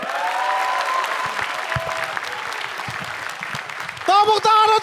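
Audience applause for a stand-up comedian, steady clapping from a crowd that fades gradually while a voice talks over it before the applause ends.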